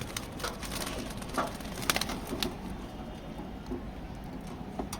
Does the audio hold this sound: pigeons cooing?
yes